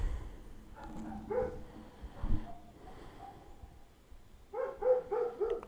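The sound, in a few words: dog barking outside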